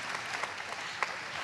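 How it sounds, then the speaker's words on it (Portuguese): Faint, steady applause from an audience in an auditorium during a science and health technology event, continuous soft clapping with a couple of slightly sharper claps. "Aplauda"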